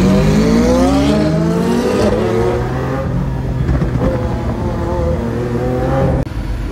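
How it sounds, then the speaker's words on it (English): Engine of a Lamborghini Centenario being driven, a loud continuous roar with rising and falling revs through gear changes, close and dominant throughout. "the first Lamborghini I got to drive was a Lamborghini Centenario."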